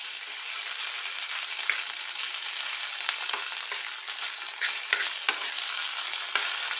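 Half a spoon of ginger garlic paste fries in a pan, hissing with a steady close sizzle while occasional light taps and stirring scrapes break through across several seconds.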